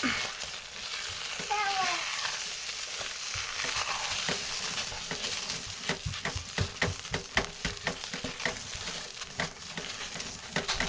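Soap cooking in a crock pot being stirred, a thick bubbling sizzle under a run of quick irregular scraping and tapping strokes that grow busier toward the end, no talking.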